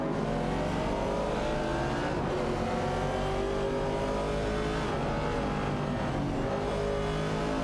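Engines of classic muscle cars such as a Ford Mustang Boss and Mercury Cougar revving in a racing video game, a steady loud drone of several overlapping motors with shifting pitch, continuous throughout with no talking.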